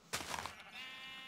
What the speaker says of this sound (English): Hi, sheep.